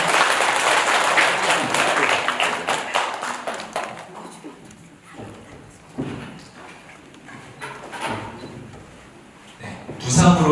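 An audience claps at a Buddhist precepts ceremony held by a Buddhist college, loud applause for about four seconds that thins into scattered claps and handling noises as someone speaks.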